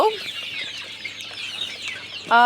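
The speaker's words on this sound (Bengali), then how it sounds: "এই যে মুরগির বাচ্চাগুলো দেখতে পারতেছেন, এই বাচ্চাগুলোর বয়স আপনার 2 মাস 5 দিন।" Two-month-old farm chickens, each weighing around 350 to 450 grams, make a dense, steady chorus of chirps and clucks close by throughout.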